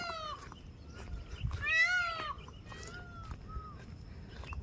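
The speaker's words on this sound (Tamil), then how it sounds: "பூனை கத்துற மாரியே இருக்குது" Outdoors on a nature hike, a cat gives several drawn-out, rising-and-falling meows with some more distant calls among them, set against steady outdoor background noise.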